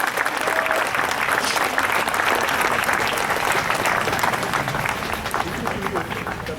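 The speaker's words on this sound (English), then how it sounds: "Come on, give him a round of applause." A protest crowd outdoors in Twinsburg, Ohio applauds a police chief at a Black Lives Matter rally. The clapping is sustained and busy, with cheers and crowd murmur mixed in and a faint voice at the outset.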